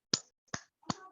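Three separate claps, crisp and close, each a single sharp hit spaced roughly a third of a second apart, with silence between them.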